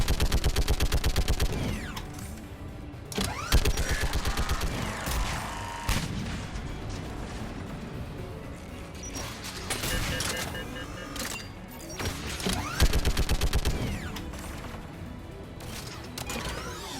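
Repeated turret gunfire in Mass Effect 3 hammers out in rapid bursts, loud and close, with short pauses between volleys over ongoing battle noise.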